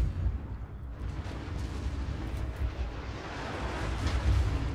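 Battleship gunfire in World of Warships from a battlecruiser under attack, a continuous low rumbling roar of distant heavy guns and booms, dense and steady with no clear separate shots.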